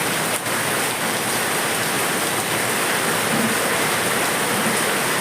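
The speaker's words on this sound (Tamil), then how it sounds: "எப்படி சவுண்டோடு பெய்யுது பாருங்க மழை." Heavy rain pours down without a break on a tiled-roof house, a loud, dense hiss of water drumming on surfaces close at hand.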